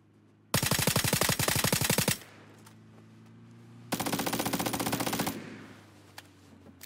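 Two long bursts of rapid automatic gunfire from the PUBG video game, each lasting well over a second with a pause between, loud and close, with faint background hum and no talk.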